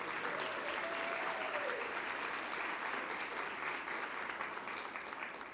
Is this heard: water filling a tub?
no